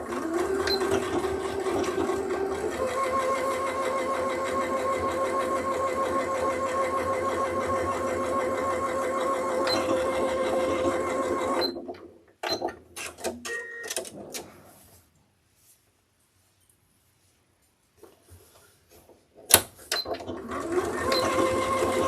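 A sewing machine runs steadily for about twelve seconds, stitching the short side seams of a duffel bag compartment at a 3/8-inch seam allowance. The motor then stops, followed by a few faint clicks, near-silence, and the machine starting up briefly again near the end.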